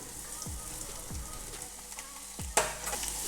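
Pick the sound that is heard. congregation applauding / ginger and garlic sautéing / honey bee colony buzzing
ginger and garlic sautéing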